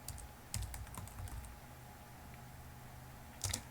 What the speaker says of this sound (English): the passphrase that I type in